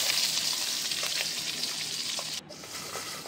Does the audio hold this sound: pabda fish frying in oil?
yes